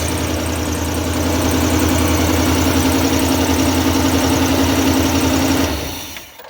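A 1979 Chevy RV engine idling on eight new spark plugs and fresh oil, a loud, even mid-pitched running hum held close for about six seconds before cutting off.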